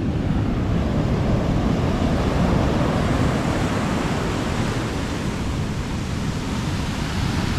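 Strong southwest monsoon wind roaring across open water with waves breaking, a steady, loud, broadband rush that buffets the microphone without pause, no voices.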